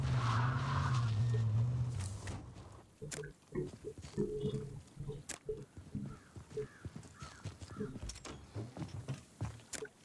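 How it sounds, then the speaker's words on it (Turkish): A car skids and crashes in the battle royale video game H1Z1: a sustained engine drone gives way to a rough skid, then a series of scraping, clattering impacts, moderately loud and close, with no talk over it. "Aa, arabayı çarpmışız."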